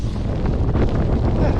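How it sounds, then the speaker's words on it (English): Strong gusting wind on an outdoor walk buffets the microphone in a loud, close, continuous low roar. "I said the wind's picked up."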